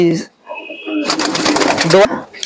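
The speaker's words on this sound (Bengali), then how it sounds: "এটা হলো চেন্নাই চেন্নাই লাইনের পায়রাটা" A Chennai line pigeon coos in short, low warbling calls close by, while someone speaks over and between the sounds.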